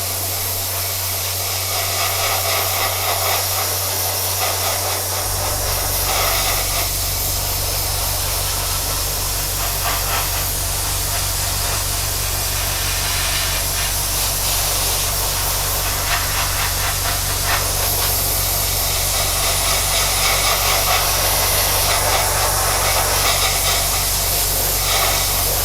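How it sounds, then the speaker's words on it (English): An airbrush sprays paint onto a Revell 1/48 Tornado scale model in a steady, close, continuous hiss with a low compressor hum underneath, the airflow stepping up a few seconds in and then holding. "keep it 90 degrees above and spraying in circles"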